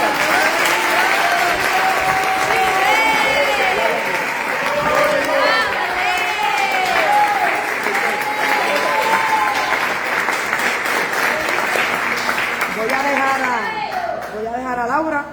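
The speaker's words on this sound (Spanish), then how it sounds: "Denle un aplauso a Cristo." A church congregation claps together in sustained applause at a Christmas Day service, loud and dense throughout, with scattered cheers, whoops and voices rising over the clapping.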